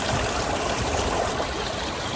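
Spring water gushes out from inside the mountain beside the River Swat, a steady, dense rushing flow that stays loud and unbroken throughout.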